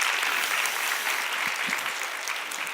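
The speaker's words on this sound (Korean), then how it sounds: "다시 한번 귀한 말씀 전해주신 우리 소장님께 감사의 박수 드리겠습니다." A church congregation applauds a guest speaker after a sermon, a continuous, dense burst of many hands clapping filling the room with no voices over it.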